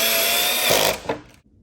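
A cordless drill or powered screwdriver whirs steadily while driving a screw into a plastic resin storage locker, then winds down and stops with a brief clunk, close and loud.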